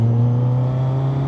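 Steady motorcycle engine droning in fourth gear at low, even revs while riding a small residential road, a close, continuous hum with no talk.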